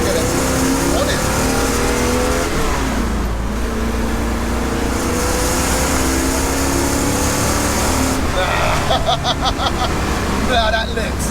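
A 1969 Pontiac Trans Am Ram Air III with its 6.6L engine accelerating hard in third gear, a loud continuous roar heard from inside the car, with occupants talking over it.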